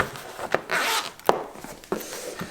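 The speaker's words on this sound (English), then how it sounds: "All you have to do is unzip it." A zipper on the carrying case of an Alpha ESS portable power station is pulled open in several quick, rasping strokes, close and fairly quiet.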